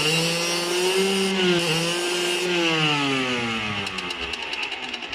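Small two-stroke moped engine with dynamo ignition and no electric starter, kick-started and running steadily close by, its buzzing note rising and falling with the throttle; no one speaks.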